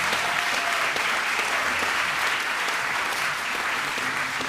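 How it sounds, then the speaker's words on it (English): A church congregation gives a sustained, dense round of applause in honor of former Philadelphia Mayor Jim Kenney, steady and even throughout with no pauses. "I want us to give a huge round of applause to former Mayor Jim Kenney."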